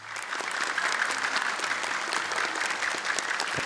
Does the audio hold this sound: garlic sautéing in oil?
no